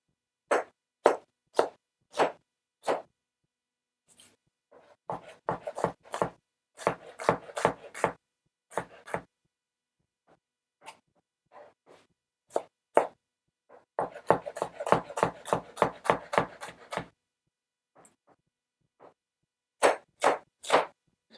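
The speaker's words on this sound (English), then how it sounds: "now we're gonna finely chop the shallot and put it into this bowl" Knife finely chopping shallot on a cutting board, crisp rhythmic taps in quick bursts separated by brief pauses, close and clear with no talking.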